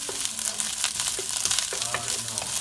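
Fried rice with pepper sizzles steadily in a pan, a continuous close frying hiss broken by occasional soft scrapes of stirring, with no one talking.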